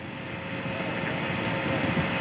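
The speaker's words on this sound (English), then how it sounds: "The second stage engines have lit off." The Apollo 11 Saturn V's second-stage engines ignite in 1969 as a steady, dense roar of broadband rumble, loud and continuous throughout with no voices.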